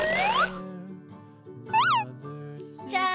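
A toy kitten from a Hello Kitty play kitchen set gives electronic meows, a few short rising-and-falling cries over a tinkly synthesized melody, close and clear with no voices.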